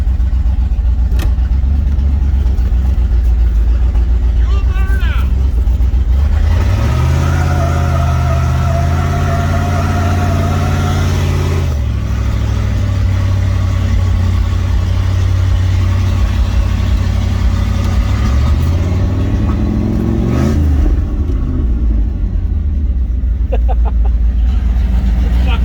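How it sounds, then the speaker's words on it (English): A car revving hard during a burnout in a shop setting, the loud engine rising and falling in sustained pulls close by, with voices talking over it. "Alright, let's do burnout."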